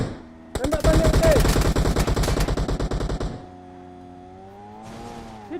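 Rapid automatic gunfire from a video game rattles loud and close in a steady burst of about three seconds, then stops, leaving a low engine-like hum and a brief noisy rush at the end.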